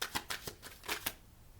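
Tarot cards being shuffled and handled at close range, a quick run of crisp flicks and snaps as the top two are drawn, followed by a brief quiet moment.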